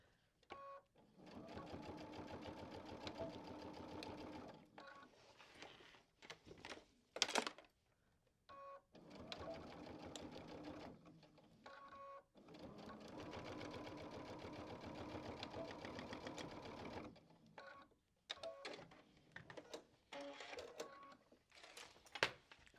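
A sewing machine stitches a quilted backpack back panel in long steady whirring runs, with brief pauses and handling clicks between them, close and fairly quiet.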